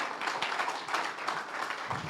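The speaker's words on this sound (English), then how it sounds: "A round of applause as she takes the stage." Quiet, steady applause from an audience at a health-tech investor summit panel as the moderator takes the stage, a soft continuous patter of many hands with no talk.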